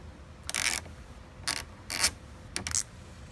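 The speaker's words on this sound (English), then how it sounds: "Undo these Torx." Torx screws being backed out of the cap on a 2016+ Toyota Tacoma tri-fold tonneau cover, with four short bursts of ratcheting, clicking driver noise close up and separated by brief pauses.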